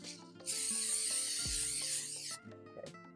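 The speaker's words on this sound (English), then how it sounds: "give that a little spray" Cooking spray hisses onto a baking dish in one steady burst of about two seconds, followed by light clinks and handling noises.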